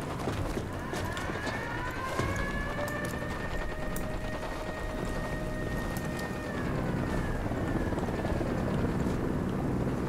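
Helicopter in the video game Ghost Recon Wildlands, a loud, steady rotor roar with a whining turbine tone that rises and holds, continuous for about ten seconds.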